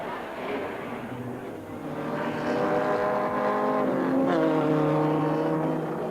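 A green Maserati race car roars past flat out, its engine note climbing in pitch and swelling louder as it nears, with a strong, steady harmonic drone that peaks near the end.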